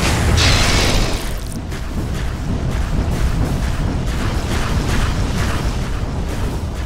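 A tower is destroyed in the Dota 2 video game, a loud booming crash with a rumbling, gritty tail. Scattered impacts follow, and the sound stays dense and heavy throughout.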